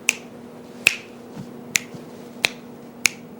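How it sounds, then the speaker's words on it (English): Five sharp finger snaps ring out alone at a steady, unhurried pace, each a crisp close click over a faint background hum. "let's snap your fingers there for a minute"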